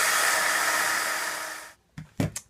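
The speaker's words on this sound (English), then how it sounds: "Okay, I'm going to dry that good." A hair dryer blows steadily and loudly at close range over watercolor paint on a card, then cuts off, followed by a few brief handling knocks.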